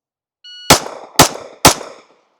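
Three loud, sharp gunshots ring out in quick succession during a transition confirmation shooting drill, each followed by a short decaying echo after a brief tone beforehand.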